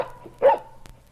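Little dog Muffin gives a single short bark on a children's story record, one brief yelp standing out over a quiet music bed.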